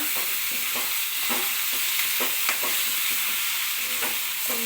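Chopped green chillies and tomatoes fry in hot oil with a constant sizzle, while a spoon stirs them in repeated scraping strokes close by, with no talk.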